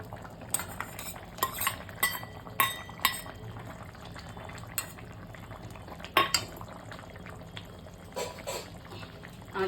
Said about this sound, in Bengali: এই পেঁয়াজ ভাজা একটু করে দিয়ে দেবো